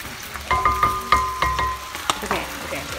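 Macaroni being stirred in a hot pan on a home stove, giving a steady sizzle and frying hiss broken by several short scraping and clinking strokes from the utensil against the pan, close and fairly loud.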